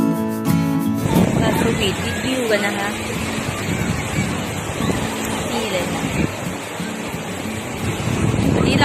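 Sea waves wash onto a beach in a steady, broadband rush of surf, mixed with wind buffeting the microphone and faint voices in the background.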